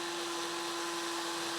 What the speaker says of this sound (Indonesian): Kita akan bor dulu ya. Ini menggunakan mata bor beton atau mata bor untuk tembok.